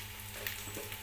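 Mustard seeds sizzle and crackle in hot oil for okra pullagura, a steady close frying hiss with small pops and no voices.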